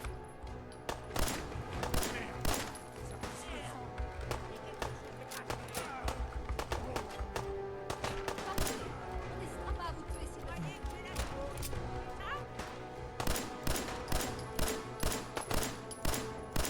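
Gunfire and passing bullets in the video game Fallout 4, repeated sharp shots in irregular bursts at a steady loud level over a dense game soundscape, with a voice talking throughout.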